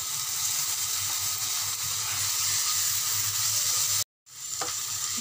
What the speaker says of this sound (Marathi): आता हे छान भाजून झालेलं आहे